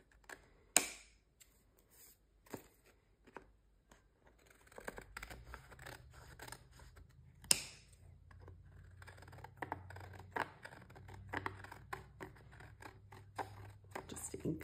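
Scissors trim the edge of a large 12 x 12 paper junk journal tag, giving scattered close snips and crisp paper cuts with soft rustling and faint background hum between them.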